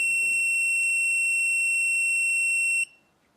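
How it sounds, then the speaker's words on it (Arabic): An Arduino-built anti-snoring alarm triggered by a sound sensor emits a steady, piercing electronic tone for nearly three seconds, then cuts off abruptly into near silence. "كل ما يعلى صوتي فوق مستوى معين بيصفر"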